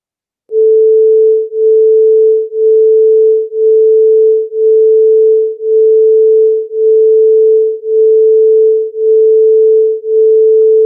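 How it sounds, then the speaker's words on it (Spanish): Two pure sine tones at 440 and 439 Hz sound together as one steady hum whose loudness swells and dips about once per second, loud and alone. "Hay dos sonidos, uno en 440 y uno en 439."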